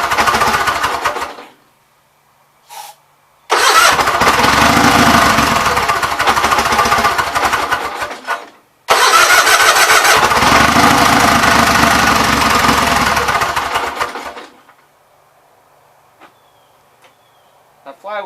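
A Gravely 8199KT tractor engine with a new governor runs loud and close with a rough knocking rattle from its flywheel screen rubbing, cutting out briefly twice before a long run that drops to near silence.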